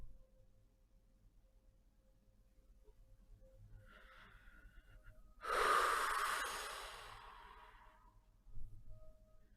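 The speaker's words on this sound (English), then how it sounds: "You hear breathing on the other end." Breathing in a thick, smoky room: a soft sigh-like breath swells in the middle and fades slowly, then a quieter breath follows near the end, over a low hum with no talking.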